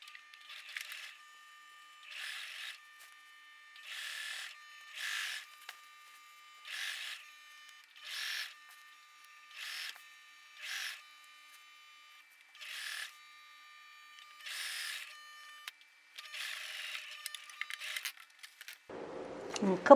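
A sewing machine stitches the collar seam of a dress shirt with a 1 cm seam allowance, running in about a dozen short, even bursts with brief pauses between them. It sounds close, and a louder clunk of handling comes at the end.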